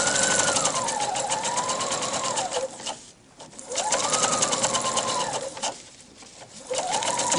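A sewing machine runs a silk strip through a gathering foot in three steady bursts of close, loud whirring, each cut by a short pause before it starts up again.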